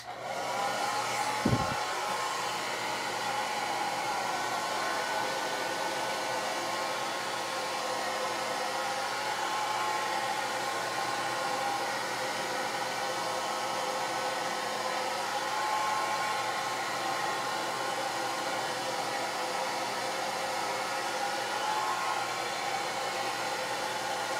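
Hair dryer blow-drying frizzy, curly, thick hair, a steady close-up whooshing hiss that runs unbroken and even, with one brief click near the start.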